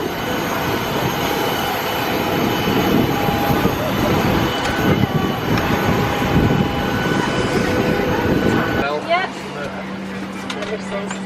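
Jet2 airliner engines whine and roar steadily at close range with loud broadband rush, ending in an abrupt shift to a lower steady hum and faint clatter.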